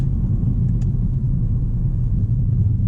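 A 2017 Acura ILX engine running in manual sport mode, heard as a steady, loud, low rumble from inside the car, with no talk.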